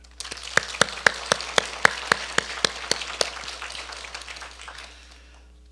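Scattered, crisp claps from a church congregation applauding, a sparse burst of sharp hand claps that quickly thins out and fades, with no voices over it.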